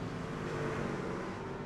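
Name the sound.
race car spinning its rear tires leaving pit road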